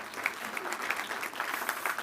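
An audience at a data management talk applauds its event sponsors, a continuous moderate patter of many hands clapping, steady and somewhat distant, with no speech over it.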